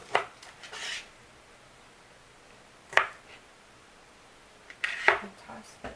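A knife trims scallion roots on a cutting board, making a few sparse, quiet chopping taps and scraping strokes with long pauses between them in a calm kitchen.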